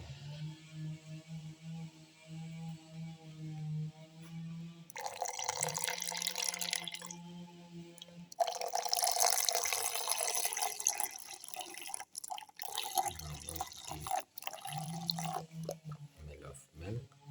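Milk poured into a mixer grinder jar for a watermelon plum smoothie: a splashing, gurgling pour in two loud, close bursts over steady tonal background sound.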